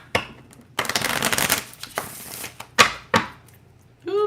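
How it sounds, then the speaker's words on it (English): Tarot cards being shuffled by hand: a long riffling burst followed by several sharp slaps and taps of the deck, close and loud, with a brief voice at the end. "Let me shuffle that."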